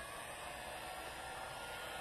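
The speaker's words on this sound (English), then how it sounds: "But I do want to hit it with the heat gun." A constant, even whoosh of a heat gun blowing hot air close by, steady throughout with no voices.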